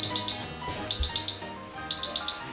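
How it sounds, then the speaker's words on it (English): An oven timer buzzer sounds for a baked ricotta cheesecake, giving two paired bursts of shrill electronic beeping, loud and close, separated by a short pause, with no talk. "Ooh, the buzzer went off."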